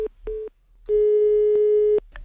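A Spanish telephone line gives a busy tone after a call is cut off: a short beep, a longer one, then a sustained tone, each clear and loud over a quiet line.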